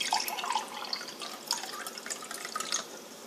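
Tap water being poured to fill half of a glass in a home experiment, a soft, steady trickling splash with faint dripping lasting the whole stretch, quiet and close with no voices.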